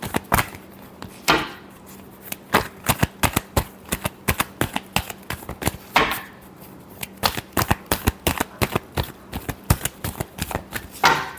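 Playing cards are shuffled over and over, a steady run of crisp riffling snaps and flicks close by, continuing without any talk.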